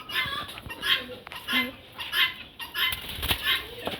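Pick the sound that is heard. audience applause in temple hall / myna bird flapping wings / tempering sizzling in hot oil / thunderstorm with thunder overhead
myna bird flapping wings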